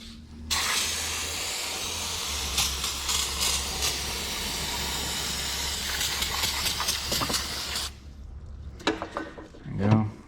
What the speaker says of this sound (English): One last spray around.